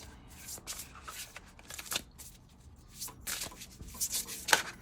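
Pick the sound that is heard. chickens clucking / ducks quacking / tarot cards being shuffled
tarot cards being shuffled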